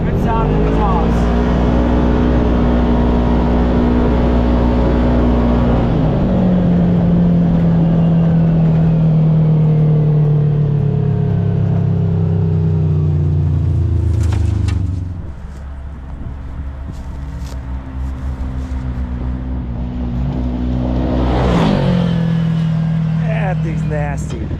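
A loud Kawasaki Teryx KRX 1000 side-by-side engine drones and revs through an aggressive aftermarket PLM exhaust, rising and falling in pitch with a throttle blip near the end, while people talk over it.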